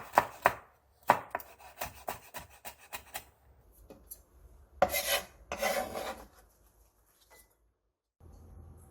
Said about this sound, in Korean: 길게 어슷 썰어 채 썰어주세요